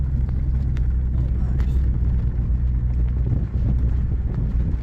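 Steady low engine drone and road rumble from a 2001 Nissan Pathfinder R50 4x4 with a five-speed manual, driving in second gear, with wind buffeting the microphone throughout.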